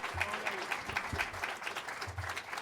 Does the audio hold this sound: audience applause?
yes